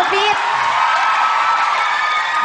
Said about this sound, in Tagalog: Dahil ang palakpak at sigawan ng tao sa'yo.